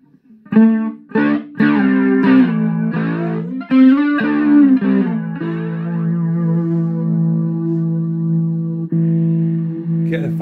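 Sustained electric guitar chords through the flanger effect of a Joyo DC-15 amp, giving a swirling, jet-like shimmer as the notes ring out, loud and close.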